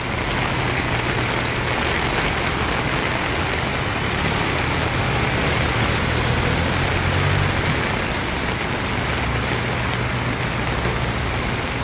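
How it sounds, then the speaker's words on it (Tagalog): Heavy rain pours steadily and loudly, a constant broadband roar of drops on surfaces with no pauses. "kasi malakas ang ulan"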